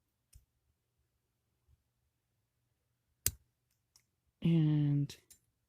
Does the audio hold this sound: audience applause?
no